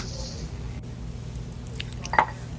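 Ingredients go into a homemade kimchi sauce: a wet squish and drip near the end rise over a quiet kitchen background hum.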